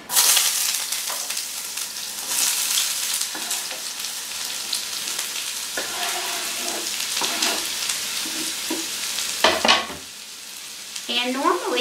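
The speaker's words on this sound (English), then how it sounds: "It is going to sizzle a little bit when I put these onions in." Half a small onion sizzles as it hits hot fat in an Instant Pot, a steady crackling fry with stirring scrapes and a few clinks of a utensil against the pot.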